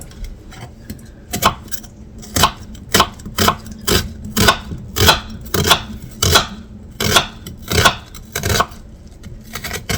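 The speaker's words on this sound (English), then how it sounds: "I'm gonna chop up a half an onion. I'm gonna try to chop this real fine." A knife finely chopping half an onion on a cutting board, a series of sharp, close, fairly regular thuds about one to two per second, with no talking.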